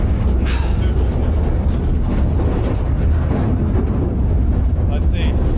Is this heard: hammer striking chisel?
no